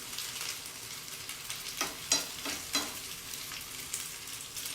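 Spaghetti frittata fries in a pan with a steady bright sizzle throughout, broken by a few sharper crackles and spatters near the middle.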